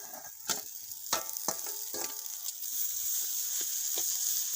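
Boiled potato dropped into a hot pan of oil and masala for a spicy pitha filling, with a steady close sizzle broken by several sharp scraping stirs and knocks of a spatula.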